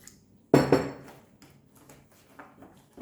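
A spoon clanks against a bowl as milk is stirred into waffle batter for a bubble waffle maker, a sharp clatter followed by softer scraping clinks, close and alone.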